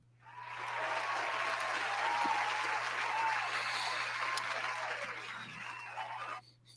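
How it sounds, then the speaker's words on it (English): A round of applause from a crowd rises quickly, holds as a steady dense wash of clapping for several seconds, then cuts off; it is fairly faint. "round of applause for WWE and Logan Paul."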